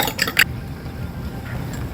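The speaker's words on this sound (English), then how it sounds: "Add some salt. And I'm taking my time to mix the eggs really well." Eggs with salt are beaten in a bowl, giving a few quick clinks of utensil on bowl followed by soft wet stirring and squishing, close and brief.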